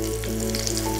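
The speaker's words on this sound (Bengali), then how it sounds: "এক পিঠ ভেজেছি আর এক পিঠ উল্টে দিলাম" Fish fries in a pan of oil over medium heat, giving a dense, steady sizzle that crackles up close without a break through the whole moment.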